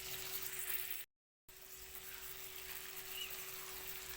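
Pieces of chicken frying in a pan, a steady soft sizzle with a faint hum running beneath, broken once by a brief silent gap before the sizzling resumes.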